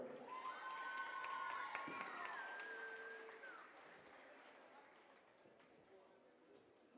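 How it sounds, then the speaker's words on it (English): A crowd at a college basketball game cheers and claps for a cheerleader, loud at first and then fading into a steady murmur with whistles and shouts. "Please give a round of applause for Kamaya Walker"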